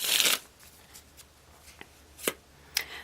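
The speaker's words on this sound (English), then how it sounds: "One more shuffle." Tarot cards riffled in a quick burst up close, followed by a few soft taps and slides of cards being handled, with one more brief riffle near the end.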